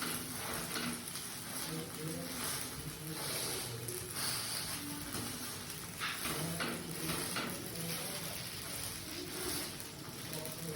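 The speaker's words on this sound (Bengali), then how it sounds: "এটাকে ভেজে নেব। বেশি তেল দেবো না, একটু একটু করে তেল দিয়ে" Potato-stuffed flatbread fries in a little oil with a soft, steady sizzle and crackle that carries on evenly throughout at a low, close level.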